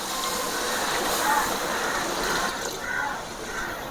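Water poured into a large pot of chicken biryani masala, about 1.5 litres: a steady, moderate gushing pour running continuously for several seconds, with faint background room noise and no speech.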